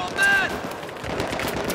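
Gunfire in the video game Battlefield 3, a short burst of rattling automatic shots with an electronic tone at the start, with a voice talking in the background.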